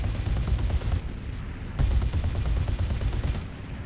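A German Whirlwind anti-aircraft gun fires in War Thunder, loud rapid bursts of autocannon fire with short pauses between them, close and dense.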